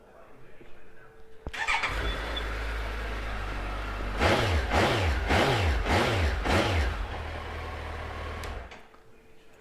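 A 2008 Suzuki GSF1250SA Bandit motorcycle on its original exhaust cranks and starts, then settles to a close, steady idle with four quick throttle blips in a row before fading back down.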